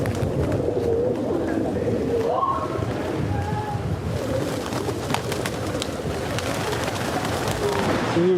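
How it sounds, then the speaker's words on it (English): Pigeons cooing in an old town in Puerto Rico near an old fort, soft low repeated coos blended into a steady outdoor background of ambient noise. "Oh, so many pigeons."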